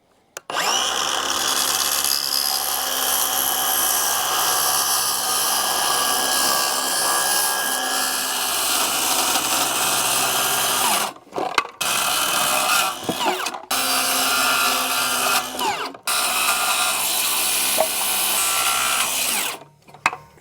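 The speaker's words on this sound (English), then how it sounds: "let's start cutting out some plywood" Power tools cut and drill plywood while a 1943 Case SC air cleaner baffle is being fabricated, giving a loud, continuous whine for about eleven seconds, then shorter bursts separated by brief pauses.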